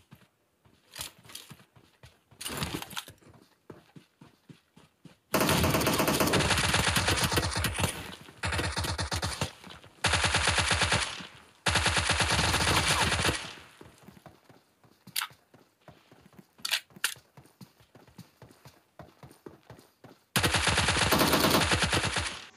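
Gunfire in the PUBG Mobile game: long, loud bursts of rapid automatic fire come in several separate volleys, with quieter footsteps and light clatter in the gaps between them.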